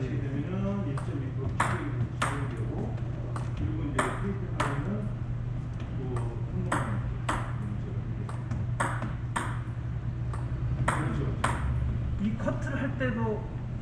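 A table tennis ball is struck back and forth in a friendly rally, sharp bright pings repeating at an irregular quick rhythm over a steady low hum, with faint voices in the background.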